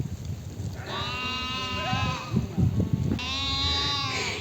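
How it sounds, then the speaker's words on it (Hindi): A flock of sheep near a campsite bleats, with two long, wavering calls standing out over a busy rustling, shuffling background. The sound is fairly close and steady, with no one talking. "मुझे तो ये भेड़ें बड़ी सुंदर लग रही हैं"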